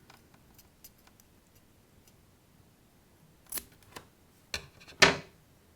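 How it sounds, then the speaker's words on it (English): Scissors snip the cotton wick of a Penelope repairable atomiser for an electronic cigarette, a few sharp close clicks near the end after quiet handling ticks. "we're just going to cut the wick right at the end of that O-ring there"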